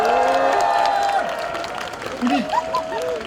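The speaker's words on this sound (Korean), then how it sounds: "다시 한번 큰 박수 부탁드립니다." Crowd applause and cheering fill an outdoor campaign rally for a presidential candidate in Sangnam-dong, Changwon, steady and loud throughout, with a voice talking over it and brief whistles or shouts near the end.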